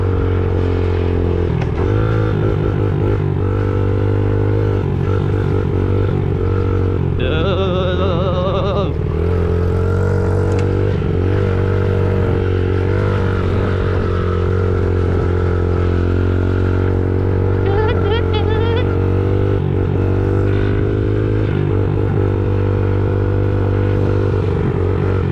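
A small 50cc dirt bike being ridden, its engine droning loudly and steadily close by with a high buzzing whine and small shifts in revs throughout, over wind noise.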